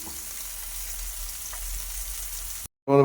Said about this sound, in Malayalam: രണ്ട് അയില എടുത്ത് വറുത്തു